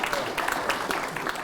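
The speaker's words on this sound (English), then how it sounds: "let's give Rabbi Herzog a big round of" Brief burst of audience clapping for a rabbi at a Chanukah event in Melbourne, uneven individual claps close by, short and somewhat sparse.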